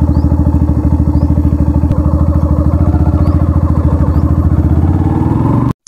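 Yamaha FZ version 3.0 motorcycle idling just after starting, a steady loud single-cylinder thrum with rapid even firing pulses close by, running alone without talk until it cuts off at the end.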